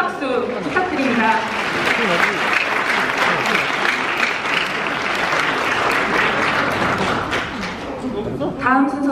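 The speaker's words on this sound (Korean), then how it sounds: "다시 한번 두 사람에게 큰 박수 부탁드립니다." Wedding guests clap together in a convention hall, a dense, sustained round of applause that swells and holds, then thins toward the end as a voice begins speaking.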